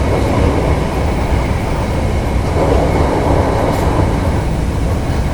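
A Japanese-built MCW diesel railcar rumbles along steadily from inside a carriage, with a constant low drone of the engine and rolling wheels, loud and continuous.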